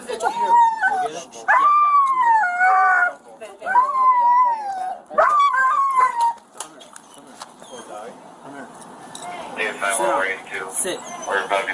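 A dog howls and whines up close in long, wavering, rising-and-falling cries during a police scene outside a store, followed by scuffling and voices talking.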